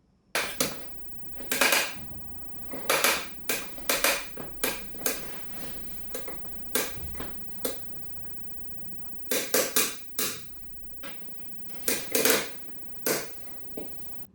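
A six-year-old IKEA Markus office chair gives a repeated series of sharp creaks and squeaks, irregular bursts spread over several seconds, close and fairly quiet with no talking.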